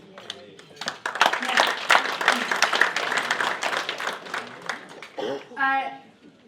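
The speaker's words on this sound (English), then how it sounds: "I think we should all give James another round of applause" Audience at a political event applauding, a loud burst of many hands clapping that builds and holds, with voices calling out and cheering near the end.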